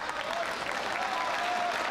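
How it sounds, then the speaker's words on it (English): Audience at the 1999 World Pool Championship semifinal applauding after Efren Reyes finishes a long run, a steady, dense wash of clapping at moderate distance, continuous throughout with no break. "the crowd appreciating that that run was just a phenomenal run from Efren Reyes"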